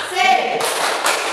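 A classroom of children performing the 'tepuk semangat' clapping chant, a short burst of quick hand claps with a final loud clap, close and noisy against room murmur.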